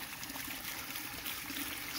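Water from a heavy-duty 100 ft stainless steel garden hose spills over the rim of a full container, a steady close splashing trickle with no talking.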